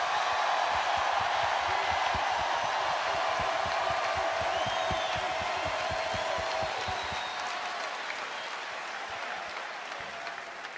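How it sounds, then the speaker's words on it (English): A crowd at a boxing event applauds steadily and loudly after the fight, the dense clapping gradually thinning and fading over about ten seconds. "You owe him a big round of applause."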